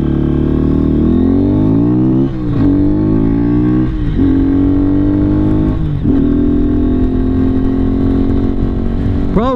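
Lifan KPR 200 motorcycle on a ride, its engine loud and close, revving up through the gears with several distinct shifts and a steady buzzing drone between them.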